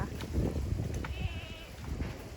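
A small goat bleats a few times while receiving a deworming injection with a size 20 needle. The cries are close and moderately loud over low handling noise.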